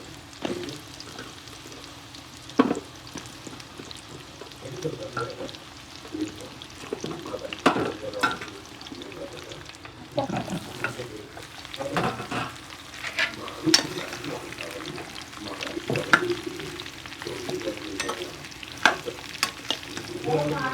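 Pumpkin pieces sizzle and fry in a pan while a spoon stirs them, with close, repeated scraping and clattering strokes over a constant crackle and no talking.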